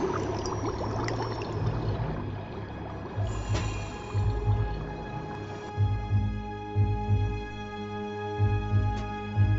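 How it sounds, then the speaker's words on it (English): Water flows and pours in the VR puzzle game A Fisherman's Tale, a steady liquid stream with a few drips and splashes, moderately loud over a low ambient game soundtrack. "Now the water would flow."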